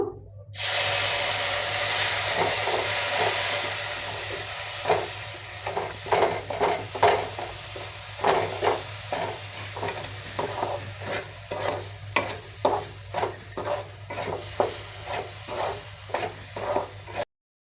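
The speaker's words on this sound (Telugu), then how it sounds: "చక్కెర కొద్దిగా కరిగేదాకా వేయించుకుందాము కొద్ది కొద్దిగా పాలు వేసుకుంటా కలుపుకుందాము" A semolina laddu mixture with sugar and milk sizzles as it is fried and stirred in a pan, a steady frying hiss broken by repeated scraping stirs, close and alone.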